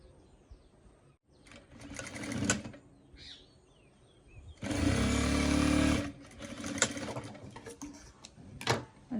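Sewing machine joining fabric pieces, heard in several short whirring runs with one longer loud burst in the middle, close by, separated by quiet handling sounds.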